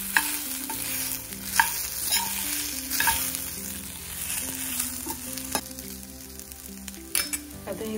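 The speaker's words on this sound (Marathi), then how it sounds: "छान खमंग भाजून घ्यायचे।" Masala ingredients sizzle in a little oil in a pan while a spoon stirs and scrapes them, steady frying crackle with sharp utensil knocks, close and fairly loud, no talking.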